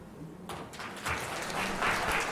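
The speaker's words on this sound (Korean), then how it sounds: "다시 한번 뜨거운 박수 부탁드립니다" Wedding guests in a banquet hall applaud, a soft diffuse patter that swells after a brief quiet start and continues at moderate distance, fairly faint.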